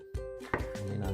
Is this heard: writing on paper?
no